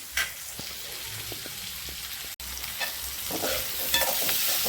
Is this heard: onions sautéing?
yes